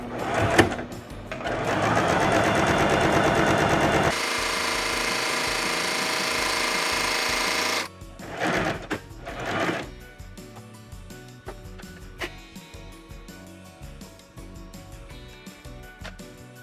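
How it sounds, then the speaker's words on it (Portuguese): A Singer SS-226c sewing machine runs a straight stitch on a dish towel hem in a loud steady whir for about eight seconds, then stops; brief bursts of motor noise and quieter handling sounds follow. "nós vamos passar uma costura reta ao lado do ponto zigue-zague, na distância de um pé de máquina"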